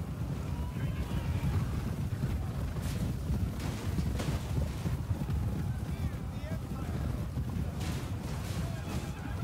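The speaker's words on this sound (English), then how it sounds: "So many horses" A mass of cavalry horses gallops across a battlefield in the video game Total War: Warhammer, a dense, continuous rumble of hooves with faint voices over it.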